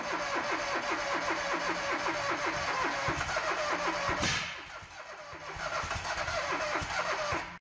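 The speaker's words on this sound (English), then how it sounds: "engage the starter. Try to start the engine." Kohler engine cranking on its starter, then catching and running, a loud rhythmic chugging that briefly dips before steadying into a fast mid-pitched idle, heard alone without talk.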